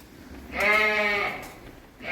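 A lamb lets out one loud, wavering bleat at close range, calling for its flock, with a quiet outdoor background before and after.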